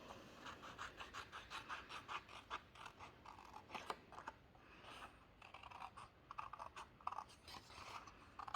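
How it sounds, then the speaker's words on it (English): Repeated crisp snipping and crunching as scissors cut through paper or card, close up, with light rustling between cuts and no talking. "So grab your scissors and cut that out."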